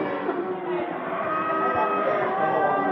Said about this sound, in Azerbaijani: Bunlar da camışlardır